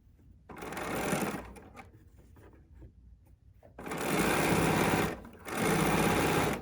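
A BERNINA sewing machine stitches patchwork seams in fast, steady bursts: a short run, a quieter pause with small handling noises, then two longer runs separated by a brief stop.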